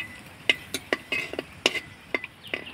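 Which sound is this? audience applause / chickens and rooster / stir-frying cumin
stir-frying cumin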